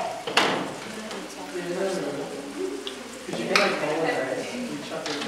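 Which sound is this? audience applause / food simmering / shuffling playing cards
food simmering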